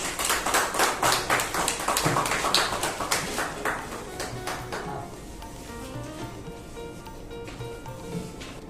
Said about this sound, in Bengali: জোরে একটা হাততালি হয়ে গেল